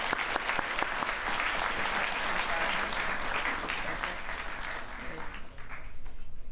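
Sustained applause from an audience at a graduate orientation event, steady and dense clapping filling the room as a speaker is welcomed, with some voices faintly under it.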